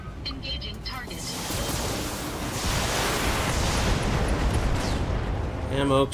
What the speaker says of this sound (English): Ammo explosion. Always good to see.